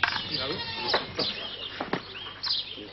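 Goats bleat in several short, wavering calls, loud and close, spread across a few seconds, with a voice talking briefly between them.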